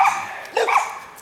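A neighbour's dog barks from across a rural property, two short barks a half-second apart, moderately loud and slightly distant, with no talking.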